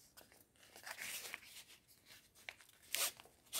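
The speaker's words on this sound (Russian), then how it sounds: "Как этот пакет распаковывается." Plastic packet holding a telescopic antenna torn open by hand, a few short crinkling rips and crunches in quick bursts, close and fairly quiet.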